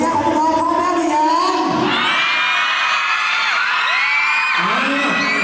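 A university cheering squad at a faculty performance event shouts, cheers and whoops loudly as a crowd, rising voices and yells sustained throughout.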